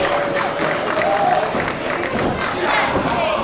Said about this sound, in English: Shaun Moore knows that as he's feeding off the energy of this crowd at the Victoria Pavilion.